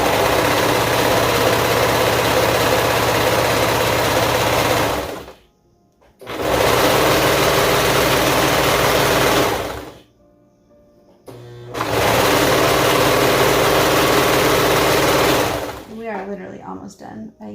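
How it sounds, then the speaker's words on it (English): A serger sewing machine stitches car seat cover fabric in three loud, sustained runs of rapid motor whir separated by short pauses, ending with quieter handling sounds. "I'm gonna go ahead and serge the top around here"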